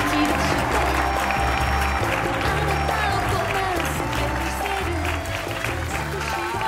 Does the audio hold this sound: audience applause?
yes